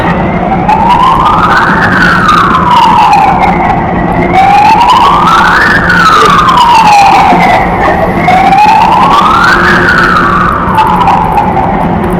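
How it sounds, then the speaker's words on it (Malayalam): An ambulance siren wails loud and close on a road between Bangalore and Cochin, its rising and falling tone repeating in slow cycles over steady traffic rumble. "ആംബുലൻസിന്റെ സൗണ്ട് കേൾക്കുന്നുണ്ട്."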